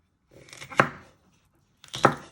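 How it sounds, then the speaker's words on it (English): A knife chops a pepper on a cutting board in two distinct close strikes about a second apart, each a crisp thud with a short rustle before it. "then you're just going to chop it into 3 medium pieces"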